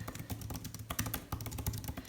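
Rapid keystrokes on an Apple Magic Keyboard for iPad Pro, a steady run of close, crisp clicks and taps with no talking.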